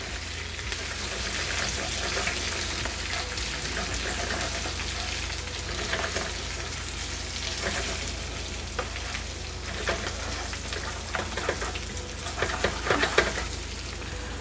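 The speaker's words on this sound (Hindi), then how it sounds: "इन मसालों के साथ दाल और सब्जी को भूनना शुरू" Lentils and vegetables frying and crackling with spices in a pan for shami kebabs, with occasional stirring scrapes and louder spatters toward the end.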